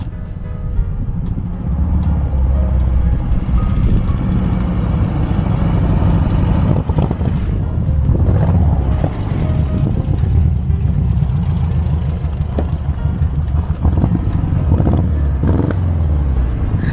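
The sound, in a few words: 1969 VW dune buggy 1776cc engine running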